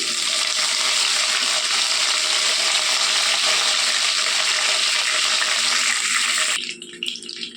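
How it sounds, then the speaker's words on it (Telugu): Mustard seeds, fenugreek, dried red chillies and curry leaves tempering in hot oil for kanda pulusu give a loud, steady crackling sizzle that cuts off abruptly near the end, leaving faint kitchen clatter. "ఆవాలు, కొద్దిగా మెంతులండి వేసుకుంటున్నాను. రెండు ఎండుమిరపకాయలండి, కొద్దిగా కరివేపాకండి"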